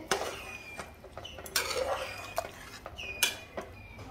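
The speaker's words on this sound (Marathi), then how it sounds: "चणा डाळ आता मी मिक्स करून घेते यामध्ये" Spoon stirring chana dal in a cooking pot for an Aagri-style dal mundi, giving soft scraping sweeps and a few sharp metallic clinks against the pot, fairly close and quiet with no talk.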